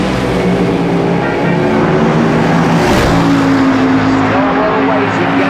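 An AA/fuel nitro dragster at an NHRA Heritage Series March Meet drag race, its engine a loud, continuous broadband roar that stumbles during the run, with commentary voices under it.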